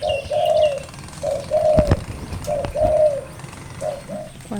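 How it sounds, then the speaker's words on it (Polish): Caged birds coo in repeated soft, rounded phrases, several calls in a row with short gaps, close by over a faint background hum. "chcieliście zwierzaki w filmach, to macie, proszę bardzo, ptaszki"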